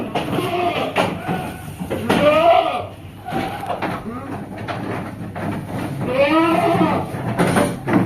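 Goats bleat repeatedly close by, wavering cries rising over a busy background with a few bumps and knocks.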